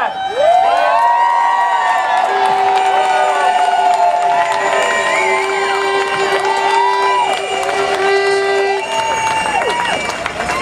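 A large outdoor rally crowd on Parliament Hill cheers, shouts and whoops loudly and continuously to welcome the new Canadian Labour Congress president, with high voices and whistles ringing above the roar.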